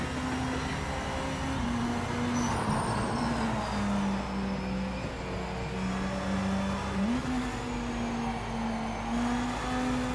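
A hypercar engine in Project Motor Racing at Spa holds a loud, steady drone throughout, its pitch rising and falling with gear changes and revs, with a high whine layered on top.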